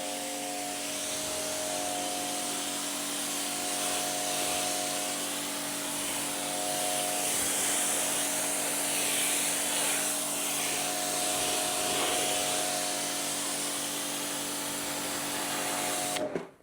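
Water spray rinses a car windscreen after a glass compound treatment, a steady broad hiss that runs unbroken and fairly close for about sixteen seconds, with a faint constant hum underneath.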